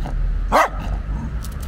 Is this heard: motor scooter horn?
no